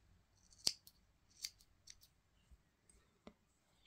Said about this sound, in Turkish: Şöyle krem ipimin de ucunu keseceğim.